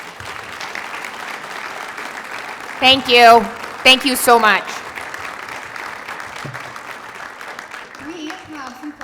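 A luncheon crowd at a manufacturers' event in Fairfield, Iowa claps steadily for the governor, and someone briefly speaks her thanks over the applause partway through.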